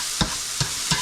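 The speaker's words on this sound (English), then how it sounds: "Alright, we got onions and carrots sauteing up." Onions and carrots sautéing in a pan, with three quick stirring scrapes spaced evenly over a soft background sizzle, close and clear.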